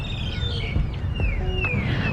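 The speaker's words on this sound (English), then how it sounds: "I love the birds, how loud they are in Bangkok." Birds call loudly with sweeping whistled chirps over a low, constant rumble of Bangkok city traffic.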